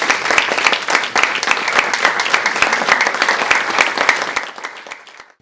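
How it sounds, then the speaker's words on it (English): Conference audience applauding the organizers and Finnish hosts, a loud dense burst of many hands clapping that holds steady, then fades out near the end. "our Finnish hosts deserve a big round of applause for getting us all"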